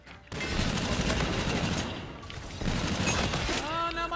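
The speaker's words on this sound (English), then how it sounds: "Yeah, like a heavy machine gun right here." A heavy machine gun in Call of Duty: Infinite Warfare fires in long sustained bursts after a brief quiet start, with a short dip midway before the loud rattling fire resumes, and someone talking over it.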